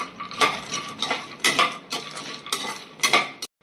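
Almonds tipped into a pan for dry roasting after peanuts for a nut laddu, with sharp clattering and scraping of a metal spoon against the pan in several close, rhythmic bursts.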